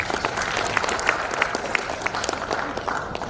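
Conference audience at a national working meeting in Jakarta breaks into applause, a dense wash of clapping with a few sharper individual claps standing out, steady for several seconds.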